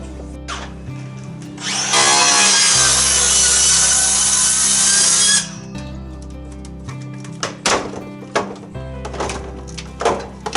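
A power tool cuts through wood or wall material to make a hole for an extractor fan, a loud sustained whine for several seconds followed by shorter bursts and knocks, with no talking.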